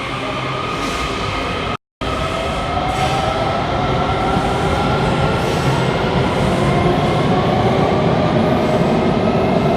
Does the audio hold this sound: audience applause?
no